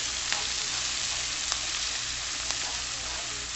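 Onions seasoned with pepper fry in a pan, a steady close sizzle with three brief sharp clicks of a utensil stirring, no voices.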